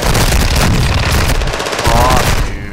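In a video game, rapid machine-gun strafing fire rattles down on the player, a loud dense continuous burst of shots and impacts that briefly eases before resuming and then tailing off.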